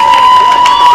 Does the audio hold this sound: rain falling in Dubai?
no